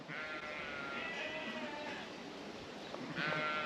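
Sheep bleat repeatedly in an open field, several calls rising over steady wind and rumble, one near the start and another loud one toward the end.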